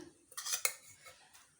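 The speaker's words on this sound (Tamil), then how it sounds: "இப்போ நல்லா கலந்து எடுத்துக்கலாம்." Cauliflower florets being mixed with coriander paste in a bowl, a few short scraping and clinking strokes of a spoon against the bowl, close and fairly quiet, with no talking.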